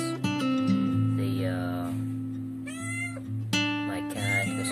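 A pregnant cat, about to give birth to her first litter, meows repeatedly in loud, drawn-out, strained calls, close to the microphone over a steady low hum.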